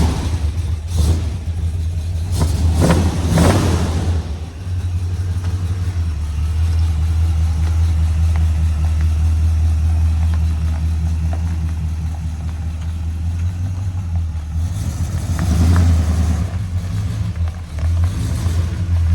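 A 1979 Chevy K-30 truck with a small-block Chevy engine runs steadily while driving, a loud continuous low rumble that swells with revs near the start and again later, with no talking.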